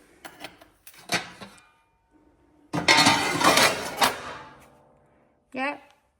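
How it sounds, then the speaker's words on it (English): Metal ash pan of a new multi-fuel wood burning stove being handled: clanking, scraping and rattling bursts, with a longer loud scrape midway and a sharp clank near the end. "Always check your ash pan with the new stove, because often there's something in it."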